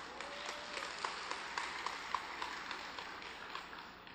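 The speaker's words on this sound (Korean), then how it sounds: "굉장히 격려가 됩니다. 여러분의 박수가." A church congregation applauds during a sermon, a steady, moderately distant wash of many hands clapping that fades slightly toward the end.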